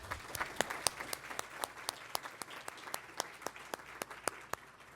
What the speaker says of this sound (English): Everyone, a round of applause for our panel.